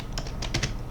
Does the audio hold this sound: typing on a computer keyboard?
yes